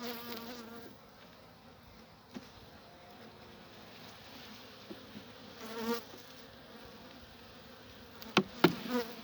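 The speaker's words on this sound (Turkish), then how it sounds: "Maskenin içine arı girmiş" Continuous buzzing of many bees during a winter hive check, a low steady drone, with a few individual bees zipping close by in brief louder bursts, one inside a beekeeper's mask.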